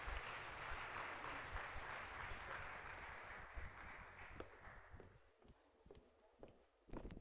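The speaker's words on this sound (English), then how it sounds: "Can we give her another round of applause, please?" An audience at an online academic workshop on basic 4IR skills for educators claps in a steady, dense round of applause that gradually thins and fades out over several seconds.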